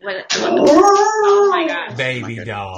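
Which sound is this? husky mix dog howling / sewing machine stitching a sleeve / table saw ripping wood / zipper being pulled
husky mix dog howling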